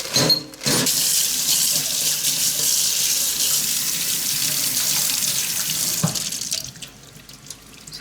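Tap water gushes steadily over cast aluminium vice parts being rinsed after cleaning for a water break test, a close, continuous splashing stream that briefly stops near the start and thins out toward the end.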